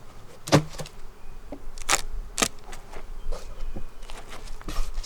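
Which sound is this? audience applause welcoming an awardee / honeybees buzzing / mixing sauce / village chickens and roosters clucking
honeybees buzzing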